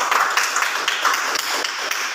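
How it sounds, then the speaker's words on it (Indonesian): Applause from a classroom audience after a student presentation on the golden age of Islam, a steady patter of hand claps lasting about two seconds, fairly close and even in level. "tepuk tangan."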